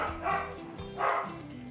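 A dog barks twice, moderately near, in a kitchen where food is being cooked in a pot, with a faint background hum throughout.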